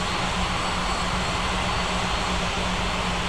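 An airliner on approach in an air traffic control game at an airport, with a steady, even roar of aircraft engines holding at a constant level, with no voices heard.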